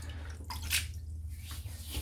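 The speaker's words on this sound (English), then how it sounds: "Put a bit of water in there first." Water is added to Bignoli Galliate Liquirizia e Menta shaving soap before a head shave: brief close splashes and drips, with a soft wet trickle around the middle and faint water sounds under a low steady hum, no talking.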